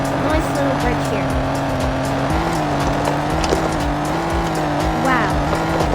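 A newly acquired car drives steadily over a small bridge, its engine a constant close drone with a shifting tonal hum and road rumble underneath, and a brief squeal-like sweep partway through.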